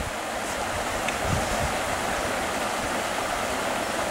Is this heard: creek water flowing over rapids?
yes